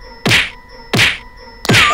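Three sharp slaps on a cheek during a Vietnamese comedy game show, each a loud crisp smack spaced under a second apart, with a quiet gap between hits.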